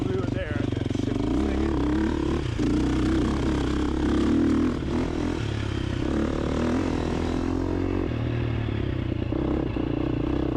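A vehicle engine revs hard in third gear, a loud continuous roar with rising pitch and some clattering, easing off near the end, with a voice speaking over it.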